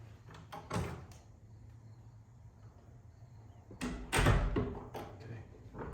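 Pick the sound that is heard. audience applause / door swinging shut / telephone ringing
door swinging shut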